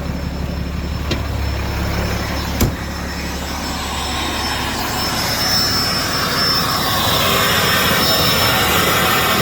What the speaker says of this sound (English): Right now, really all we're hearing is the engine.